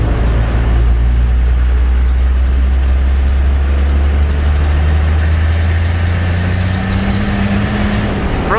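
A turbocharged Ford F150 truck pulls hard in fourth gear on wet pavement as its wheels break loose, a loud sustained engine drone with rising pitch near the end, heard from inside the cab.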